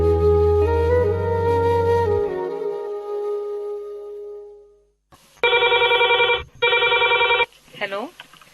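A musical tone fades out, then after a short silence a phone rings twice in loud electronic bursts, followed by a brief warbling tone.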